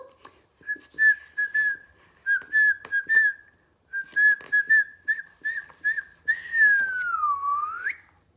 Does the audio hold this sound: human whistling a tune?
yes